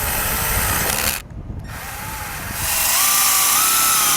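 A power drill drives screws into an RV slide-out awning bracket on a 2021 Forest River camper, whirring steadily and loud up close, with a brief pause before the motor spins up again.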